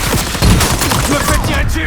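Dense, loud gunfire in a war battle scene, a rapid burst of overlapping shots with no pause across the short stretch.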